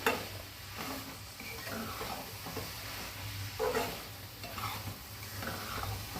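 Chutney sautéing in a pan: a steady, close sizzle and fry hiss runs throughout, broken by louder scraping strokes as it is stirred, with no voices.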